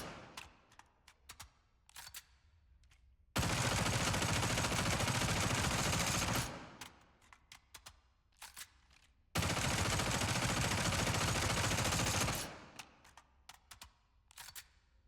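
The Buzzsaw SMG in the video game Spectre Divide fires two sustained full-auto bursts, each roughly three seconds long, loud and close. Sparse clicks and handling sounds come between the bursts.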